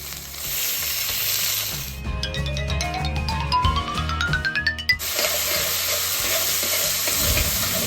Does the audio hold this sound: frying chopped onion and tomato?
yes